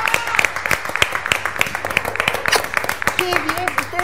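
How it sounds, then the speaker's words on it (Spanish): Studio audience on an Argentine TV talk show applauds a guest's entrance, sharp claps rising and falling in a steady patter over a lively voice talking throughout. "un fuerte aplauso"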